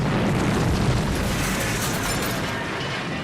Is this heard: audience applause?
no